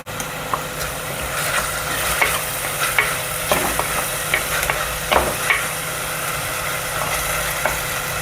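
Curry leaves and mint sizzling in oil in a clay pot for mutton keema, a steady frying hiss with occasional crackles and scraping stirs, no talk.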